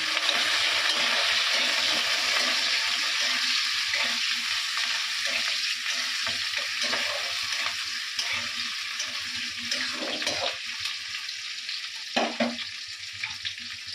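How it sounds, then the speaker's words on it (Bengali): Potatoes frying in a pan with onion, chili and spices, a loud continuous sizzle that carries on for a long stretch, easing slightly toward the end with a couple of brief clatters. "আলুগুলো দিয়ে দেবো এর মধ্যে দিয়ে একটু ভাজা ভাজা হবে"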